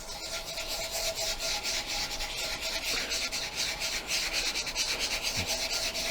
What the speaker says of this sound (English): There's just some spots that just need to be agitated a little bit with the toothbrush.